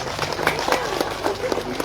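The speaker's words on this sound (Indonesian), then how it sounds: "Jadi tepuk tangan untuk kita semuanya." An audience applauds at a school graduation ceremony, the clapping fairly quiet and distant with irregular claps standing out, mixed with crowd murmur and room echo.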